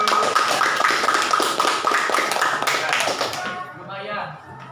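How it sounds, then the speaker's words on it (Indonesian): An indoor classroom audience claps together, a dense burst of applause that fades out after a few seconds, followed by a voice talking. "Ya, berikan aplaus seperti itu."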